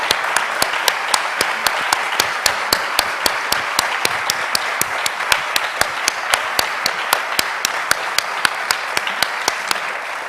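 An audience applauds at the end of a talk on education, a full, steady ovation with a regular rhythmic beat of sharp synchronized claps running through it from start to finish.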